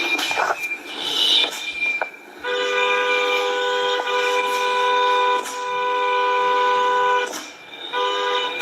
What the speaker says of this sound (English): She in the middle of the street honking the horn